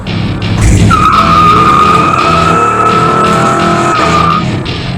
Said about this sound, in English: That's only one wheel peel.